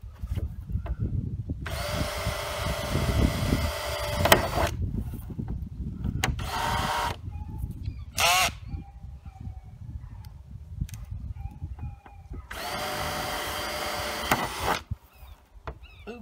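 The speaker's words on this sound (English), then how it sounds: "So I'm going to drill some holes in them." Power drill boring holes into garden containers outdoors, with two long sustained high whining bursts and a shorter one in between, separated by pauses and light handling noise.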